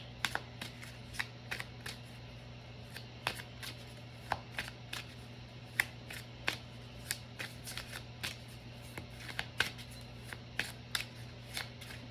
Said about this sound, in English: One more card to help me.